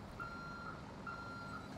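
A bus reversing in GTA 5 gives off steady, evenly spaced electronic beeps, four in under two seconds, over a low engine hum.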